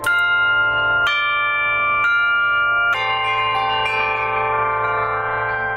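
A wooden semantron signal board is struck about five times at roughly one-second intervals, each hit ringing out with a bright, sustained tone that overlaps the next.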